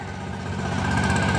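An engine idles steadily inside a greenhouse used for strawberries, its exhaust running through the enclosed space; a continuous close rumble with a low throb holds for over a second, with no voices.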